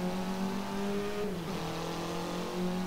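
A race car engine in a racing video game holds a steady high idle at the start line, a loud continuous droning tone that dips briefly midway before settling back, with no talking.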